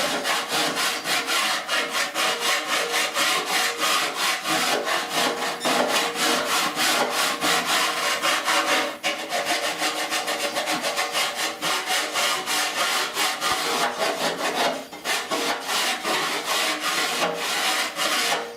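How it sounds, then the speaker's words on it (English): A coarse-cut hand file rasps across the rusted core support of a 1969 C10 truck in fast, even back-and-forth strokes, loud and continuous with only a couple of brief pauses. "That's my coarser cut file."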